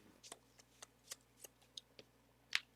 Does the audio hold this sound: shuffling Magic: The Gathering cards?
yes